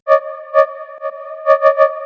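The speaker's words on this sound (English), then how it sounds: "This is a unique like sine wave bass." A clean sine-wave synth bass with stacked pure harmonics sustains throughout, punctuated by soft rhythmic attacks in a bouncy pattern, played alone.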